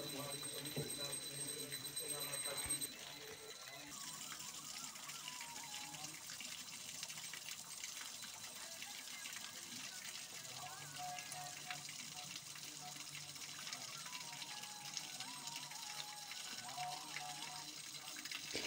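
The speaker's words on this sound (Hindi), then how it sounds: "यहाँ पर एकदम प्राकृतिक रूप से पानी का आवाज आ रहा है" Water runs naturally at the Mada Jaljaliya Devi temple in Singrauli, a continuous gushing flow like a steady stream or spout under a man's ongoing speech, moderately close and unbroken throughout.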